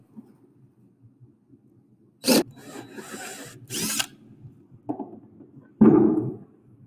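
Short bursts of a drill with a Forstner bit boring through wood, two loud spells of grinding whine followed by a brief spin-up and a final sharp burst over a low background hum.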